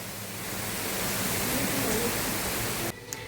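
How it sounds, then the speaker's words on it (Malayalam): Heavy rain pours outside in a dense, steady hiss that stays loud and even, then cuts off abruptly near the end. "നമ്മളൊക്കെ ഇങ്ങനെ നാട്ടിലത്തെ പോലെ മഴയൊന്നും കിട്ടാത്തതുകൊണ്ട് മഴ നല്ല പോലെ ആസ്വദിക്കുകയാണ്"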